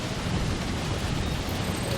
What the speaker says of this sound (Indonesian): Badai salju, nggak kelihatan apa-apa lagi.